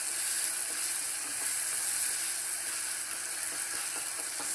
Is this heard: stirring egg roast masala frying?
yes